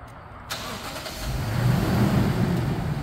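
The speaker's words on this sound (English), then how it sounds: "we're gonna show off the factory remote start" A 2013 200-series Toyota Land Cruiser starts up by factory remote start: a quick crank catches and the engine settles into a steady, slowly building idle, close and alone.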